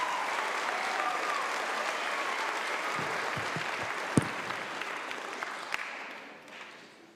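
Applause for middle school Honors Band students at a spring band concert, sustained crowd clapping with a few sharp knocks and thumps, slowly dying down toward the end.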